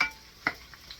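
Cooked pork belly drops into a hot pan and sizzles briefly, with a single clack of contact and a soft, close frying hiss around it, no voices.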